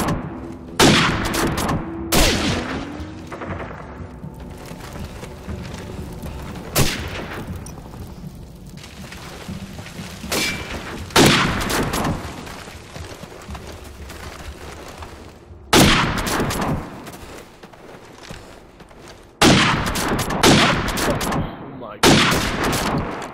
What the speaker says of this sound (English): Shoot your whole clip through that crate.